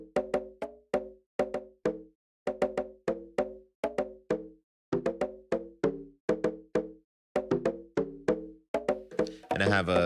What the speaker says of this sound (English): next what we have going on are these toms